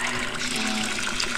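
Steady, dense rush of splashing water runs without a break for the whole moment, played as a sound effect in a carnival theatre performance; no voices on top.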